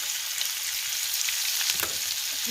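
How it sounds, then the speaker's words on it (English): Bacon pieces fry in butter in a pan with a steady, close, bright sizzle and crackle and a few louder pops, and no voices. "frying our bacon pieces. I did go ahead and add 2 tablespoons of butter to this"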